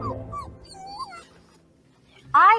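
A puppy whimpering in a few thin, high whines with a louder, sharper yelp at the end, heard close with a voice briefly underneath.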